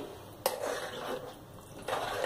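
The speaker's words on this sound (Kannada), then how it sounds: "ಈಗ ಇದನ್ನೊಂದ್ಸಲ ಸರಿಯಾಗಿ ಮಿಕ್ಸ್ ಮಾಡಿ" A spoon stirs a salted mixture in a pot, clanking once sharply against the metal, then scraping and swirling close by.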